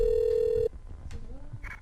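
A steady telephone tone cuts off sharply, followed by faint clicks and a short ring-like burst during a live radio call-back on a phone line.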